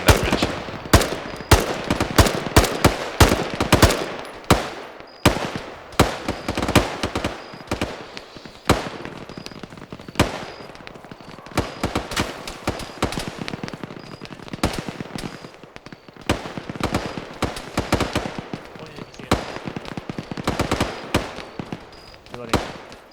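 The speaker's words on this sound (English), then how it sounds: "AMG, keep engaging that previous position. I'm putting rounds there now." Dense gunfire fills a firefight in the Vietnam-era military game ArmA 3 SOG. Rapid bursts and single cracks, some near and some farther off, keep going throughout with voices now and then under the shooting.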